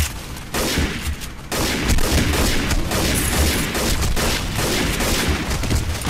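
Automatic weapons fire rapidly in the SAS Zombie Assault 4 game, a loud continuous fusillade with a brief drop before heavy booming bursts resume and keep going.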